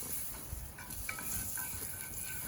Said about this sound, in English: So on a super hot skillet, the butter's gonna burn up pretty quick there.